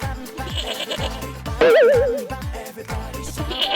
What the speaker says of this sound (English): The goat makes friends.